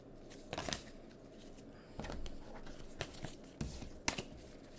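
Tarot cards are shuffled by hand in quiet, soft bursts of riffling and slapping, five or six short flurries spread across a few seconds, close and faint with no talking.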